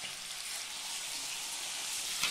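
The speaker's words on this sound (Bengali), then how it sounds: "এটাকে বিচে বিচে নাড়াচাড়া দিতে হবে" Chicken biryani frying in a home kitchen pot, a steady close hiss and sizzle with soft stirring scrapes throughout and a brief louder scrape near the end, no voices.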